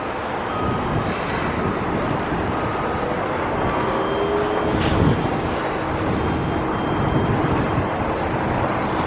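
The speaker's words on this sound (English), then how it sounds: "Starting to get windy over here." Strong wind roars steadily across a stadium construction site in Las Vegas, buffeting the microphone with broadband rumble and faint distant machinery underneath.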